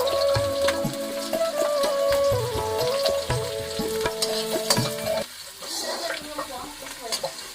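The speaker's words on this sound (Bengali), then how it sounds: "আমার বিনসগুলো ভাজা হয়ে গেছে" Beans fry noisily in a pan, a busy sizzle punctuated by repeated scraping and clattering as they are stirred, easing off toward the end.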